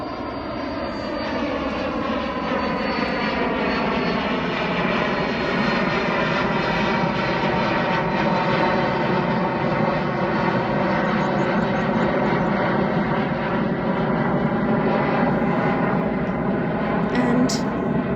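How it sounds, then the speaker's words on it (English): Aircraft engine of a plane taking off from Oxford Airport, a steady distant drone that holds throughout and slowly shifts in pitch, with a voice talking over it. "There's a plane taking off. That's coming from Oxford Airport."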